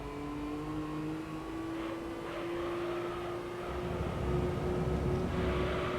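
An LMP Dragon race car engine in the video game Gran Turismo 3 holds a steady whining drone, then swells louder as the revs build toward the end.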